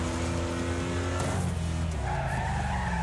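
Tires squeal in a long, continuous skid as an old Crown Vic–style police sedan in a video game slides through a corner, loud and up close, with engine sound underneath and no talking.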